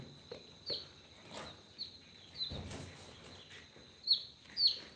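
Quail on a quail farm give short, high chirping calls, a handful of distinct faint notes scattered over a quiet background.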